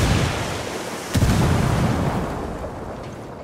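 A frag grenade blasts in a video game, a loud broadband boom hitting about a second in after an already rumbling, busy battle bed, then a sustained low roar of debris and continued combat noise.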